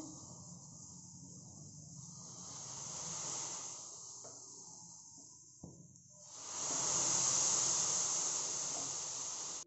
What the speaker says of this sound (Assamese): গাখীৰখিনি উতলিব ধৰিছে এতিয়া।